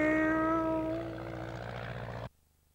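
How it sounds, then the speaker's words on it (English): A small propeller airplane flying, a steady droning engine tone with a few sustained pitched notes that fade, heard close and loud before cutting off abruptly to near silence. "We're flying our plane."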